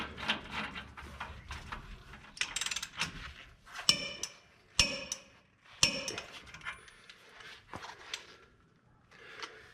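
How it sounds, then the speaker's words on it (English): A torque wrench tightens the upper ball joint on a Dana 60 axle to 70 foot-pounds, with faint ratcheting and then three sharp metallic clicks spaced about a second apart, alone in a quiet garage. "Then we're going to go tighten this upper ball joint to 70 foot-pounds."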